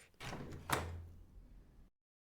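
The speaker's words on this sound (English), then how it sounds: "The lock turned with a click." A door lock turns with one sharp click, preceded by a soft scraping rattle and followed by a brief low rumble before silence, heard close within an audio drama.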